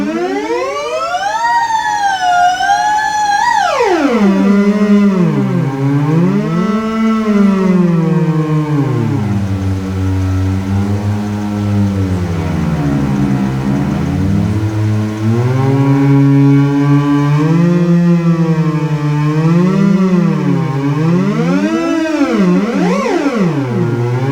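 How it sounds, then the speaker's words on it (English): Eerie, wavering electronic theremin tone gliding up and down in long swoops, loud and continuous without any voices. "So that is a theremin."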